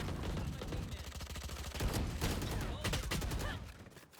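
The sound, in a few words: gunfire shooting through a wall in the video game Valorant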